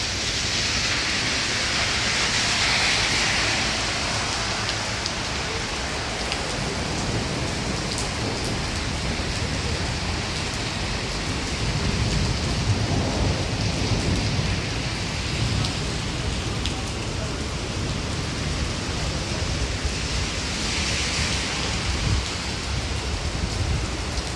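Heavy rain pours down steadily outdoors by a roadside in Saudi Arabia, a dense, continuous hiss with soft low rumbles that may be distant thunder, and no voices.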